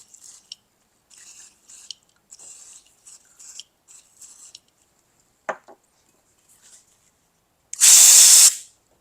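A spray can is aimed at a circuit board during diagnostic testing, giving one loud, sustained hiss of about a second near the end. It follows scattered faint, crackly bursts of activity, with no talking.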